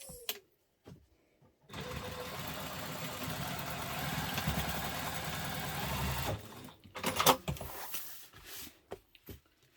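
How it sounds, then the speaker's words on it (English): A sewing machine stitches across the front of an urban messenger diaper bag in one steady run of about five seconds, then stops, followed by a few short clicks and handling noises. "And now we're going to stitch across."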